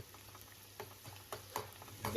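Soft sizzling of onions and green chillies frying in a pan for onion bharta, with scattered light stirring clicks and scrapes.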